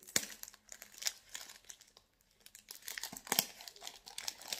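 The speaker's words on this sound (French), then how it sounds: "si j'arrive à l'ouvrir, parce qu'il y a un petit papier collé dessus" Crinkly plastic wrapping being crumpled and torn while a beauty product package with a small stuck-on paper is opened; close, irregular crackles and rips come in bursts, with no talking.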